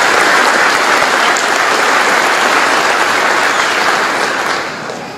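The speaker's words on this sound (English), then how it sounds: "give yourself some applause. You deserve it." A graduation ceremony crowd at a high school breaks into dense, loud applause, a continuous wash of many hands clapping that holds steady before tapering off at the end.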